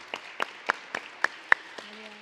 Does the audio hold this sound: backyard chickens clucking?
no